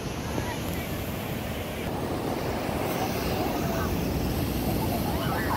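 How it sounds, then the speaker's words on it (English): Ocean surf rolling in at Cayucos pier on the California coast, a continuous broad wash of breaking waves with wind buffeting the microphone, steady and fairly close throughout. "Love the sound of the ocean."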